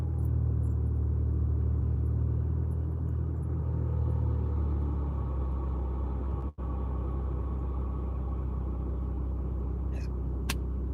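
A car drives along the road on the way to get gas, a steady, low interior engine rumble and road noise that fills the whole stretch, with a brief dropout midway and no talking.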